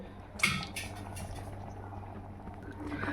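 Semiya biryani being stirred in a pot, with a soft bubbling simmer, a sharp clink of a utensil against metal near the start, and gentle scraping and mixing sounds continuing quietly.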